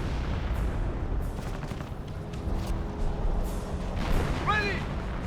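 Artillery fire in the video game Company of Heroes, heard as distant booms and scattered battle noise under continuous game ambience, with a whistling shell sweep near the end.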